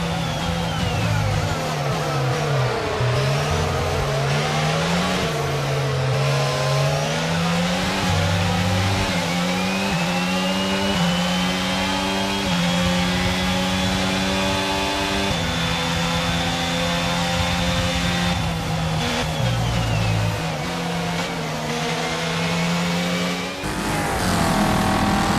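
Race cars in the F1 2022 video game scream past with high, continuous engine whine, pitch sweeping up and down through gear changes, loud and steady throughout with no talk.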